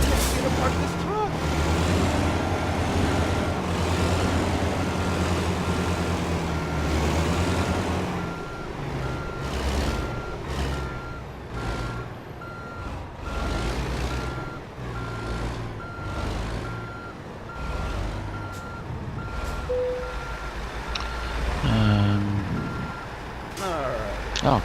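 Reversing beeps from a truck backing into a parking spot in American Truck Simulator, a steady repeating alarm over a loud diesel engine rumble, with air-brake hisses and a voice talking throughout.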